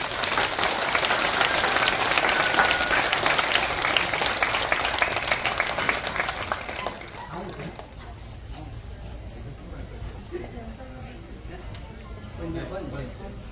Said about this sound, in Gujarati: ફરી એક વખત ઊંચા હાથની તાળીઓના વધામણા જોઈએ